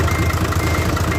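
A surplus Japanese fire truck's Hino H07D inline six-cylinder diesel with an inline injection pump idles close by, giving a steady, loud rumbling drone with no break.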